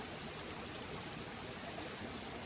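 A forest stream tumbling like a small waterfall gives a faint, steady rushing wash of water with no voices, an even low hiss throughout.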